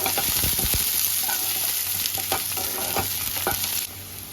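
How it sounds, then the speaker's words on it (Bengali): Sliced onion sizzles in hot oil seasoned with nigella seeds, with a spatula scraping and stirring it in short bursts through steady loud frying. "পেঁয়াজটা ভাজা হয়ে গেছে এবার"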